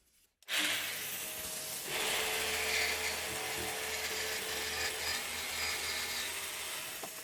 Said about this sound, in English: cut them out with a jigsaw